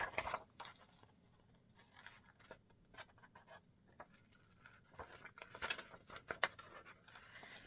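Scissors snipping through paper to cut out a ghost template for a Halloween book-folding pop-up, with quiet, irregular bursts of crisp cutting and rustling, clustered toward the end, and no talk.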